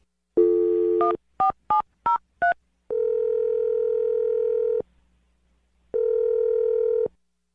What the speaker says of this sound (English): All right, I'm going to dial the number right now.